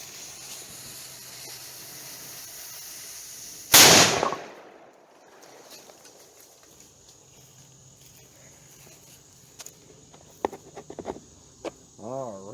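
A mini cannon with a .22/.410 combo barrel fires once at modeling clay outdoors, one sharp, loud blast followed by a hissing tail, against a steady insect drone, with a few faint clicks and thuds afterward.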